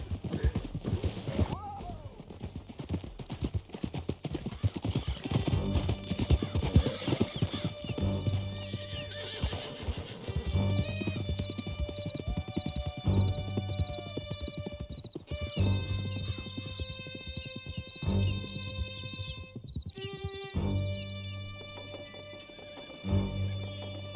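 Horses galloping under riders in Red Dead Redemption 2, fleeing through a canyon: rapid clip-clop hoofbeats with whinnies and neighs, close and loud, with speech and shouting mixed in.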